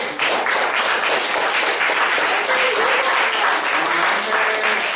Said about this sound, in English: So one more round of applause for our readers today.